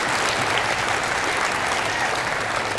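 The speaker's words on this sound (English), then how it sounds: "Again, one more applause for them." Dense, loud applause fills the room from an audience at a Christian school in Merced. The clapping is continuous and even, with no break.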